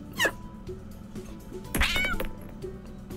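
Cartoon kittens meow in the Exploding Kittens pinball video game, two distinct, fairly loud meows, the second longer and wavering, over soft game background sounds.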